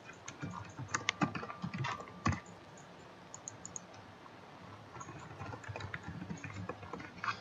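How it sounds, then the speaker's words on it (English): Rapid clicking of a computer keyboard as a username and password are typed, uneven bursts of keystrokes close to the microphone with short pauses between. "you have to type in your username and password and stuff"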